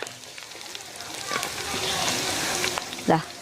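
Green chillies dropped into a pan of golden frying chicken for a Kerala-style chicken roast, giving a steady close sizzle throughout with a brief louder stir or clatter near the end, no talk.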